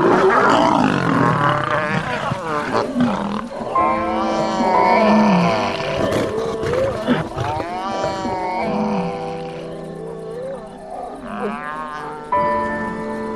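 Rival lion prides clash in a territorial fight, with loud, harsh roars and growling snarls overlapping in rising and falling bursts throughout, close and aggressive with no talk.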